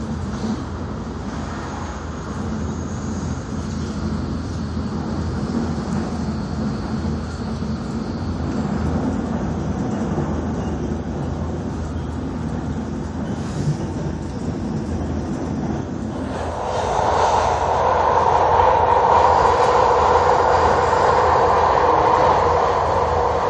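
A MARTA commuter train rolls along its rails in a continuous, close rumble, heard from inside the car, with the noise swelling noticeably louder and brighter partway through; no one speaks.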